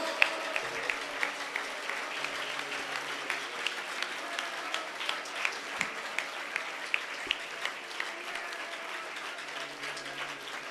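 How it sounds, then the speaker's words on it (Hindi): A church congregation claps together in thanks to God during a Hindi sermon, a steady patter of many hands with a regular beat, moderately distant and fairly soft throughout. "ताली बजा कर खुदा का धन्यवाद करो।"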